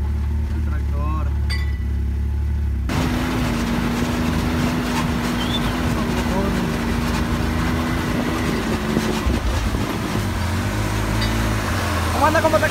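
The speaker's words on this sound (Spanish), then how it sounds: "el tractor." A tractor engine drones steadily in a village setting, a low continuous mechanical hum running under near-constant conversation.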